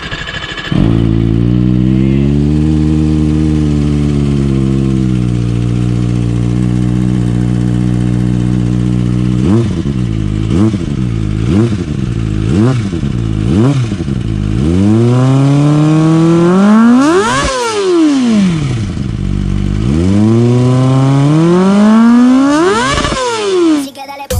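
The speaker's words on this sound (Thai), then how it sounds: "เราจะมาเปรียบเทียบท่อ2ใบนี้นะครับ จะสตาร์ทให้ดู" A Kawasaki ZX25R fitted with Akrapovic exhausts starts and idles with a rich, high inline-four tone, then gives several quick throttle blips before longer, screaming revs that climb and fall, loud and close.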